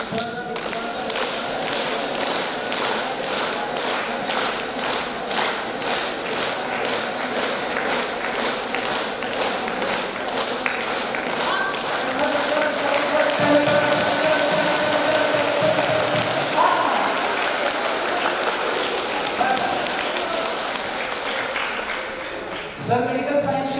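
Fast, steady rhythmic hand clapping from a group runs throughout during a Vitthal devotional chant, crisp evenly spaced claps over voices, loud and close, ending in a brief pause.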